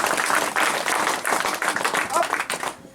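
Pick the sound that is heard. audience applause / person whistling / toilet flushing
audience applause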